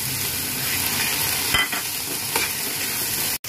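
Spice paste mixed with water goes into a sizzling ridge gourd curry in oil, a loud, close frying hiss with stirring scrapes and a short sharp drop near the end.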